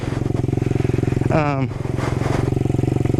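A Honda Trail 90 motorcycle engine pulls steadily on an off-road trail in second gear, a loud close-up pulsing putter with a brief rise in revs midway, while a rider talks over it.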